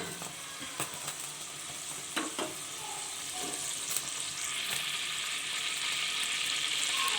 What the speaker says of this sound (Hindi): ज़ीरा जो है हमारा कुक होने लग पड़ा है।